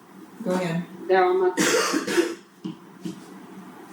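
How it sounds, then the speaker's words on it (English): A cough breaks into an online property owners association meeting, a short harsh burst between voices talking over the call. "Somebody coughed and you cut out."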